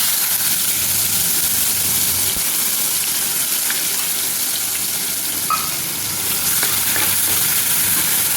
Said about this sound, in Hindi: मीडियम हाई फ्लेम पर हम इसको अच्छे से फ्राई करेंगे।